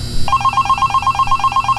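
A telephone in the horror game Five Nights at Candy's rings with a fast, warbling electronic trill that pulses rapidly and evenly, starting abruptly and continuing loudly over a low background hum.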